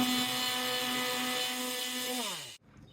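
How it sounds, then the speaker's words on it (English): A power sander sands plastic on a lawn tractor gas tank, whining steadily at close range, its motor pitch dropping as it winds down and stops near the end. "I'm going to continue sanding this down."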